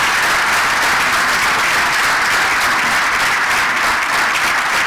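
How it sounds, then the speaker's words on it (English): Loud, steady applause from a business audience after BC Premier David Eby's economic address in Surrey, a dense continuous wash of clapping with no break. "A round of applause for Premier Eby."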